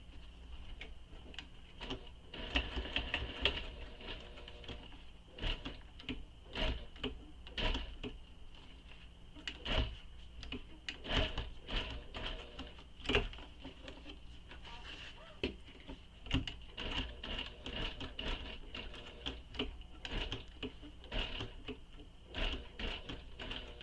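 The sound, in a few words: sewing a bag seam on a sewing machine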